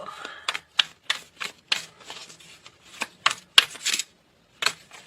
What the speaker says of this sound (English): I know the shuffling can be annoying sometimes